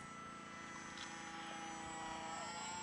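The electric motor of a HobbyZone Aeroscout RC trainer plane whines steadily at low throttle in flight, a faint continuous buzz with a stable tone, and no voices.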